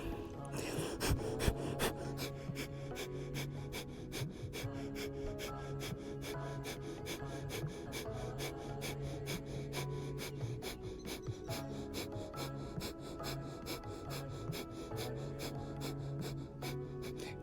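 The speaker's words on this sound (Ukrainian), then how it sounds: "Дихання вогню теж активно насичує нашу кров киснем" Rapid, rhythmic forceful breathing through the nose, short sharp puffs repeating steadily for a long stretch, with a low hum and faint tones underneath.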